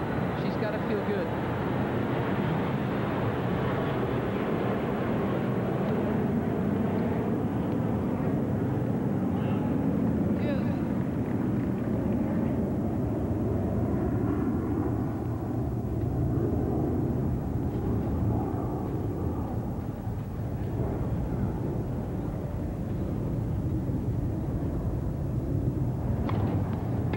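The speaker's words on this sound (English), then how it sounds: "Obviously the airplane's disturbing Martina as they take off out of LaGuardia." A jet airplane climbs out of LaGuardia Airport over a tennis stadium at the US Open, its broad roaring rumble filling the air loudly and continuously, with a crowd murmuring underneath.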